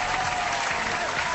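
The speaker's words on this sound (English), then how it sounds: "I'll give myself an applause on that one" A dense burst of clapping from a crowd, steady and fairly loud for its whole short length, with no talk over it.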